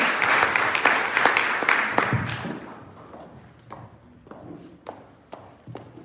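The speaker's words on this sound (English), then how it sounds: "Please, a round of applause for her as well." Applause at an event launch in Ethiopia as a speaker is welcomed: a loud round of clapping at first that thins out into scattered, separate claps.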